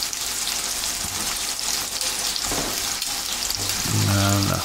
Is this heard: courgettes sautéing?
yes